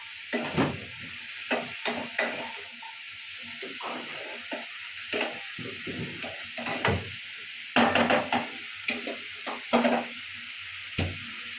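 Vegetables sizzle in a hot pan while a utensil scrapes and stirs them in irregular, clattering bursts, close and fairly quiet, with no one speaking.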